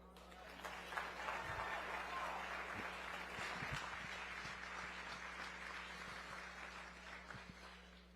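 Applause from a summit audience at a Black higher education event, a dense, continuous wash of many hands clapping, fairly distant and steady throughout, with a low hum underneath and faint crowd murmur.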